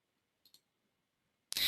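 A computer mouse gives two quick, close, faint clicks in near silence, followed by a sudden brighter burst of sound at the end.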